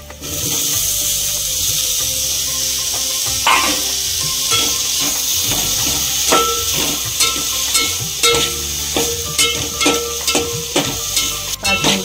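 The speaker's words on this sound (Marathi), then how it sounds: "आपण परतून घेऊया. मध्ये आपण टोमॅटो टाकूया." Tomatoes sautéing in a pan with garlic for a Maharashtrian prawn curry, a steady close sizzle with repeated scraping and stirring clicks from a spoon throughout, no voices.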